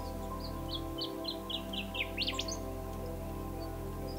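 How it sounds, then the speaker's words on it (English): A Western Bristlebird gives a series of short, high chirping calls in a quick run, followed by a brief rising flourish, heard against steady low background hum. "Once you know the call, you know it's there."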